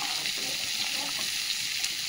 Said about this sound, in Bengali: তাহলে সবজিটা ভাজা হবে